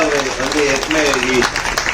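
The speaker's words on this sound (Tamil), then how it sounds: "எல்லாரும் ஒரு தடவை கைத்தட்டுவாங்க" An audience applauding at a Tamil tribute event honouring director Gangai Amaren, steady clapping throughout, close and loud under someone speaking.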